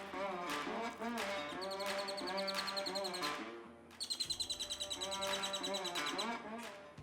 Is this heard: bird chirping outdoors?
yes